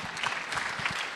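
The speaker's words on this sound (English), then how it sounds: "Let's give a round of applause for Armon" An audience at a DevOpsDays Detroit 2018 conference keynote applauds in a short, dense burst of clapping that stays even and fills the room for about a second.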